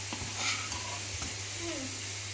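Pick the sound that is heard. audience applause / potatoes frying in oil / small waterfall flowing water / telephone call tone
potatoes frying in oil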